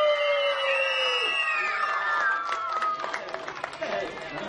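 An audience at a public event screams and claps on request, with rising high shrieks over a burst of scattered clapping and crowd chatter that fades after a few seconds.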